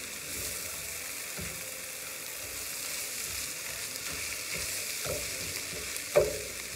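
Finely shredded filling sizzles steadily in a frying pan while it is stirred, with scraping strokes at intervals and a sharper clink near the end.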